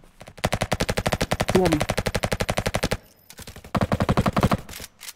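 Rapid bursts of marksman rifle gunfire in a Roblox first-person shooter game, loud close shots in two long strings separated by a short pause, with a brief voice speaking between.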